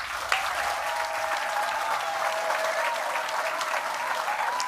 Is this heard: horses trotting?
no